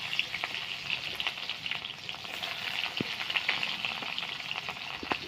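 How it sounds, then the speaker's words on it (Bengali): Onion fries in hot oil in a constant crackling sizzle, broken by occasional sharp pops and the light knock of a stirring spoon, with no talk. "পেঁয়াজটা লাল করে ভেজে নেব"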